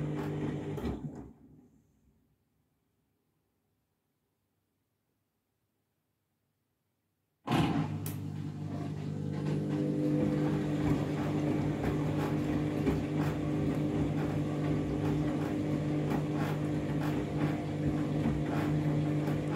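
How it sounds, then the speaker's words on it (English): A Candy washing machine spins a load of bedding: a brief running hum fades into near silence, then a loud steady whirring roar starts abruptly and keeps droning at high speed, close and unbroken, without any talking. "comes to spin, I think it's going to be mega unbalanced."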